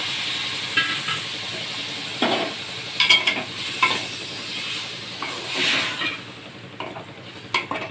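Tomatoes go into a pan of frying ginger and turmeric for a meal maker tomato curry, giving a steady hiss and sizzle with several stirring scrapes and a brief surge of spitting, close and continuous, with no talking.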